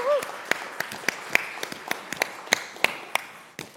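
Morning meeting audience clapping, a sparse scatter of individual claps, fairly close and uneven, with a voice speaking over the start.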